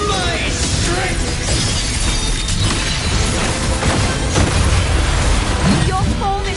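Shattering burst from the video game Wuthering Waves, a dense crash of breaking, glassy debris layered over a loud, continuous game soundtrack and effects, with a few bright pops near the end.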